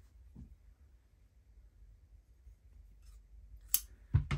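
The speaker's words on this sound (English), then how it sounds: "I cut it out with my pinking shears" Pinking shears snip through quilt fabric, quiet near-silence broken by two or three crisp cutting snips toward the end, close and soft with no voices.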